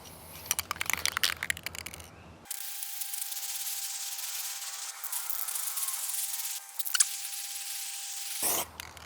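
A brush spreads chalkboard paint across a glass pane, giving close, continuous rubbing strokes that rasp steadily for several seconds after some louder scratchy handling.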